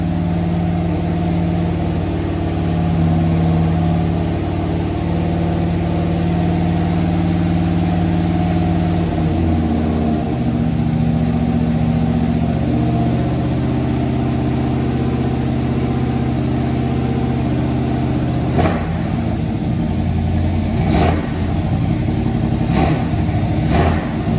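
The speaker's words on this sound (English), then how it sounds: "Really doesn't want to idle down." A 1981 Oldsmobile Delta 88 engine runs steadily at a raised, high idle that never settles down, with a few sharp clicks or taps near the end.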